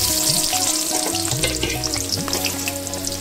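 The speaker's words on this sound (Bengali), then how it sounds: "তেলটা গরম হয়েছে, আমি পেঁয়াজ বেরেস্তা করার জন্য এই পেঁয়াজগুলো দিয়ে দেবো।" Chopped onions hit hot oil for chicken biryani beresta, giving a loud, steady, crackling sizzle that holds for the whole stretch, with faint background music underneath.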